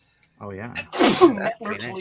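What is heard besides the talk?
sneeze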